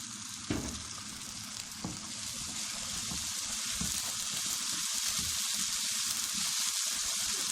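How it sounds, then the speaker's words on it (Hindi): Steady crackling sizzle of ginger and garlic frying in hot oil with onions, close and continuous, with a couple of soft clinks near the start. "इसको भी हल्का फ्राई कर लें।"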